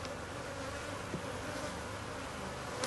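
Honeybees buzz in a dense, steady drone at an opened beehive awaiting an incoming swarm, close and continuous with no talk.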